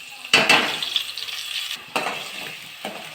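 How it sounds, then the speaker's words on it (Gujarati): Vegetables with onion, tomato, green chilli, turmeric and asafoetida being stirred in a cooking pot for pulao, giving repeated scraping strokes over a steady sizzle, close and fairly loud, with no talking. "હવે સારી રીતે બધું હલાવી દઈશું."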